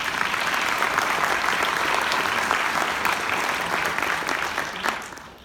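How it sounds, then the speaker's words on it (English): Audience applause fills a concert hall after an orchestra performance, steady dense clapping throughout that tapers off at the end. "So give yourselves a hand."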